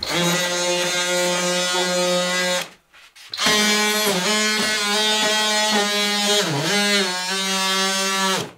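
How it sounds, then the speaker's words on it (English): An oscillating power tool sanding moldy wood buzzes with a harsh, steady drone that cuts out briefly, then resumes, its pitch wavering as it presses into the surface. "So I'm just going to give them a quick sanding just to get this off."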